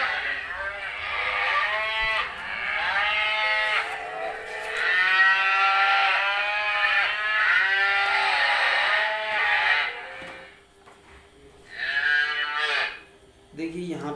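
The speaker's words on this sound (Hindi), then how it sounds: "ये आपकी गाय की रंभाने की आवाज आ जाती है।" A cow moo from a touch-activated picture book toy, several long drawn-out lowing calls in a row followed by a shorter final moo, loud and close with a slightly electronic, speaker-like tone.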